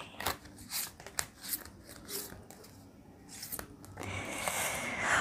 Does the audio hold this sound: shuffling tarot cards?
yes